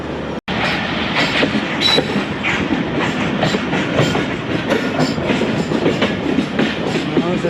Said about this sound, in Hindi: यहाँ से ट्रेन पटरी चेंज कर रही है।